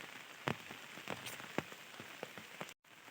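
Rain falls steadily beside a flooded pond, a soft wash of drops with scattered sharper nearby patters and a brief dropout near the end.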